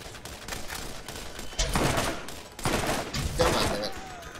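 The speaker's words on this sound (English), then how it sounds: "You want a shotgun? Here's a shotgun." Shotgun blasts in the video game Borderlands boom out in several heavy bursts, loud and close, spaced about a second apart over a background of game noise.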